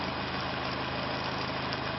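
Two small electric motors, each wired to its own coil, drive a wheel on a homemade free-energy generator. A steady, even motor hum plays alone without change.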